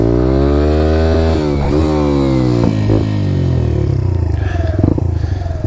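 A Lexmoto Adrenaline motorcycle engine revs hard and loud during a wheelie, with the pitch of the buzzy exhaust note rising and falling several times, plus some rattling and clatter near the end.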